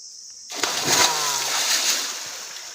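A man swimming in water, a close burst of splashing that starts suddenly and then settles into continued sloshing and churning water.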